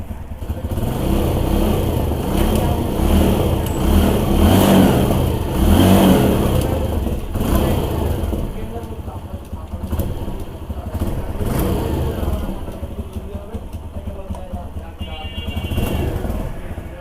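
A TVS Phoenix motorcycle engine runs loud and close, revving and clattering in steady surges throughout, in neutral with a clutch holder problem.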